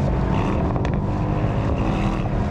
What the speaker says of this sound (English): Getting some loads of pops and bangs out the back.